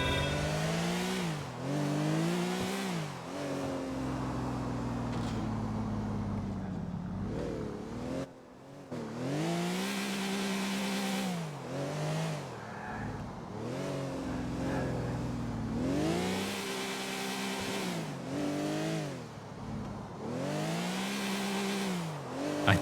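Car engine in Grand Theft Auto 4, driven by Niko and pushed to the redline, revving in repeated rising and falling sweeps, loud and close, with brief tire squeal and one short dip in the middle.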